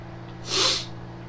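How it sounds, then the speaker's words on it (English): A single short nasal sniff from someone fighting off a cold, close and fairly quiet, rising and fading in under half a second against a faint background hum. "I'm sorry if every now and then you hear me sniff, guys"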